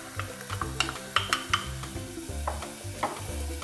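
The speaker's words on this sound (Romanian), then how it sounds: "în care voi căli ardeiul" Peppers sauté in about 30 ml of olive oil in a heavy-bottomed pan on the stove, a soft sizzle broken by repeated scraping and stirring knocks from a utensil, fairly quiet and close, with no voices.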